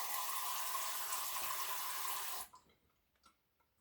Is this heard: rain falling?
no